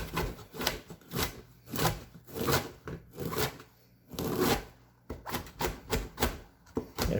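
A knife cuts broccoli for soup on a wooden board in a run of close, crunchy strokes, each a short rasping chop, coming in an uneven rhythm with brief pauses between.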